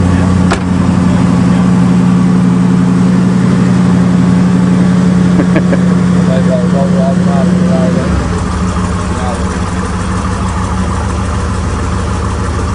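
A Cadillac hearse engine idles with a loud, steady low hum, then shifts to a heavier, rougher rumble partway through as a voice talks over it.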